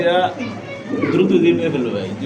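A German fancy pigeon coos in low, throaty bursts, heard close but partly under background voices and chatter.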